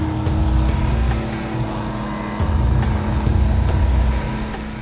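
Sherman tank engine running while driving, a loud, continuous low rumble with a steady drone and faint rattles and clanks on top, close and unbroken, with no voices.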